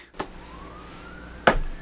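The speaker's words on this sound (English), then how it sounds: "More sirens." A siren wails with a slowly rising tone, with two sharp knocks or thuds over it, fairly loud.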